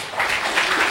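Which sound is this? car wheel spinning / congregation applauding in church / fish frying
congregation applauding in church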